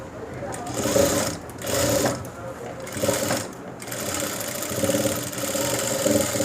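A sewing machine runs in loud bursts, stitching a folded hem on a school uniform coat, with its motor whirring up and easing off between runs while a person talks over it.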